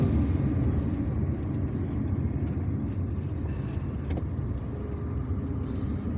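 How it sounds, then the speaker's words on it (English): Cars rushing past on an Algiers expressway, a continuous close rumble of road traffic with tire and engine noise flowing steadily throughout. "because there were many cars coming behind me, and here they are"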